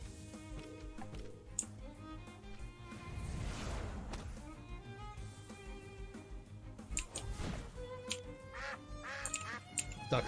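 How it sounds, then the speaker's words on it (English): A cartoonish duck quacking effect from the creature-battling video game Temtem, layered over busy game music with swooshing effects and no speech. "Duck effect."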